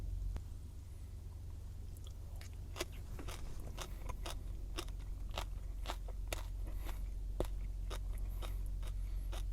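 Fresh watercress being bitten and chewed close to the mic outdoors, a series of crisp, irregular crunches over a low steady background hum, with no talking.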